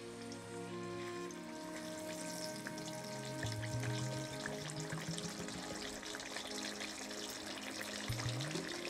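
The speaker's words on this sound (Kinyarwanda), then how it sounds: "reka dushiremo noneho bya birayi tubicishe mu mavuta" Potatoes fry in hot oil, a steady moderate bubbling sizzle over a low background hum, continuous throughout with faint crackles.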